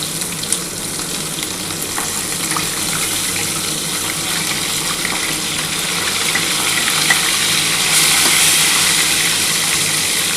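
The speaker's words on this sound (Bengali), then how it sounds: "এই 4 পিস মাছ ভাজা হয়ে গেলে আমি তুলে নেব, তারপরে যে 3 পিস বাকি থাকবে সেটা ভেজে নেব।" Pieces of white sating fish frying in hot oil, producing a loud, steady sizzle that rises slightly over time, with no talking.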